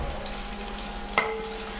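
Green chillies and curry leaves frying in hot oil for a Kerala tuna fish curry give a steady, soft sizzle. Partway through, a brief stirring clatter stands out, and a faint tone follows it.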